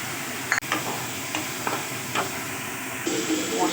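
Cumin, coriander, salt, turmeric and green chili sauté in a hot pan for kochu shak with hilsa fish head, sizzling steadily as a spatula stirs with intermittent clicks and scrapes close by.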